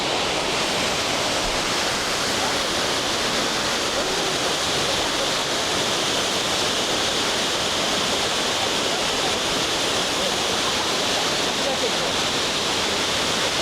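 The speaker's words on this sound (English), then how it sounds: "just look at the size of this male waterfall" The male Otaki waterfall on the Nakasendo trail in Japan gives a steady, loud, close roar of rushing water that fills the whole stretch without letup, with no talk over it.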